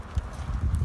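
Hooves of a ridden horse clip-clop in a steady, fairly close rhythm during a brief stretch, with no talking.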